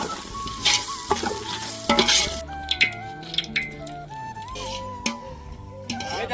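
Chopped dry onion drops into hot oil for a village-style dahi tikhari, sizzling and frying close by while a spoon stirs and scrapes against the pan, with a song playing in the background.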